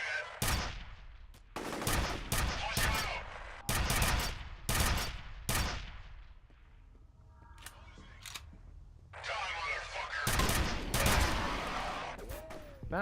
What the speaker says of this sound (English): That was a shotgun guy at close range.